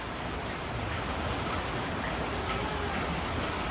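Steady rain pours down in a continuous, even hiss that fills the space, with no voices over it.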